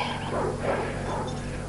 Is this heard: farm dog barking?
yes